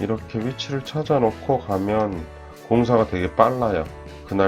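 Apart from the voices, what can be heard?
None of the usual background noises is heard.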